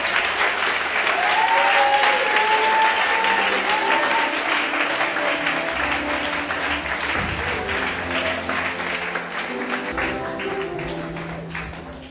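A church congregation applauds loudly and steadily at a Sunday harvest service, a dense sustained wash of clapping with faint voices underneath, slowly easing off toward the end.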